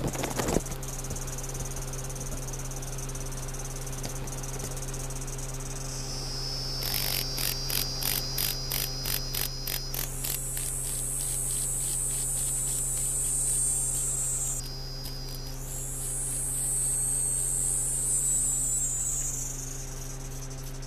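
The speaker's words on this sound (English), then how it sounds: "obviously the cicada's going mad and going crazy there trying to get away" A cicada (semi) caught by a mantis in Japan buzzes frantically, starting as rapid pulsing bursts and rising into a loud sustained shrill drone that breaks briefly and resumes, over a steady low background hum, no talking.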